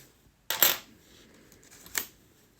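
Two bright metallic clinks of coins, including Belgian coins from the 1990s, one sharp jingle followed by a softer one a moment later, in an otherwise quiet room.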